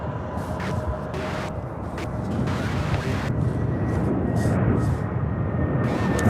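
A jet airplane takes off at Charlotte-Douglas airport, a steady broadband roar swelling gradually from a distance and holding strong, with no talking over it.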